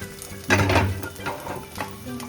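An egg sizzling in a pan as it is stirred and turned, with a short loud burst of frying followed by fainter scraping pushes, close by and with no one talking.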